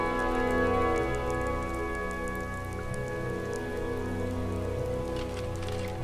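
Rain falling in the video game Skyrim, a steady loud hiss of downpour on surfaces that runs unbroken under sustained low musical tones throughout.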